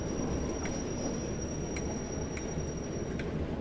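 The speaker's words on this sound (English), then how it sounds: "let's release the train brake and give it a little bit of throttle" A Class 08 "Gronk" shunter in Train Sim World 2 rumbles as it brakes to a stop, a steady low wagon roar marked by faint rhythmic metallic clicks, with no voices.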